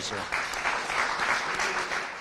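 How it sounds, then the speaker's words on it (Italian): Applause at an Italian regional press event marking a health official's retirement, steady clapping from a gathered audience lasting the whole stretch, dense and moderately loud with no voices over it. "facciamo un applauso"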